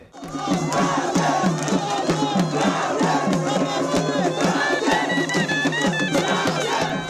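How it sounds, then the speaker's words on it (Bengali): Thousands of Brazil football supporters on a beach in Cox's Bazar chant and shout with drums and clapping, a loud, dense, continuous crowd roar with rhythmic pulses. "ঢাক ঢোল, স্লোগান আর করতালিতে মুখরিত সৈকত যেন পরিণত হয় এক টুকরো ব্রাজিলে।"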